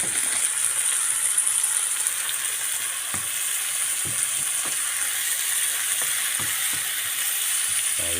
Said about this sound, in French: On le cuit bien les poireaux.